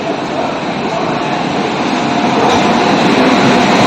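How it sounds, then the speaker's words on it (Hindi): Gomati Express arriving at a platform at Lucknow Junction railway station: a loud, continuous rumble and rush of the train rolling in, dense and unbroken throughout. "इधर गोमती आ रही है"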